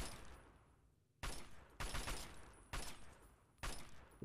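Bursts of gunfire from the video game Fallout 3, four loud sharp volleys in steady succession, each decaying slowly into a hiss before the next, with no talking over them.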